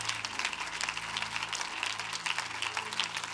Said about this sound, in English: If you love him, can you clap your hands to him one more time?